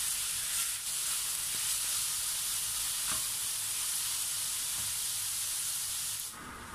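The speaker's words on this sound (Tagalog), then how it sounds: "ituloy lamang po natin ang ating paghalo hanggang sa mag-iba po ang kulay ng ating pork" Pork sizzles steadily in a hot pan while being stir-fried for igado, a constant bright hiss of frying with a few faint stirring clinks and no talk.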